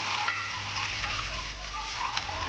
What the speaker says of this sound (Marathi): तर त्याच्यामध्ये थोडीशी लाल मिरची पावडर फ्राय करून घेऊ अंड्याला